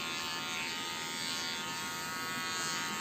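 A Philips electric hair trimmer buzzes steadily and close, a constant motorized drone that holds an even level throughout, heard alone without talk.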